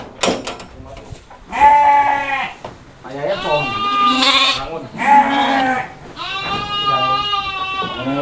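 Sheep and goats, including Gembel and Jawa Randu breeds and kambing kacang goats, bleat loudly and repeatedly at a livestock market, several overlapping calls close by with people talking underneath.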